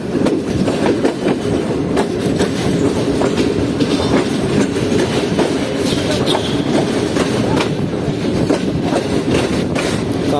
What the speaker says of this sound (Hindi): मेन लाइन को छोड़कर लूप लाइन पर लगते हुए ट्रेन गुजरात रेलवे स्टेशन पर